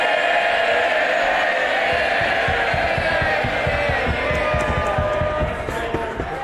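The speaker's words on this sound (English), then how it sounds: "Cheering by all means, but don't damage." Loud, sustained roar of MPs cheering and shouting in the House of Commons at Prime Minister's Questions, a dense crowd din with scattered desk-banging thumps running throughout.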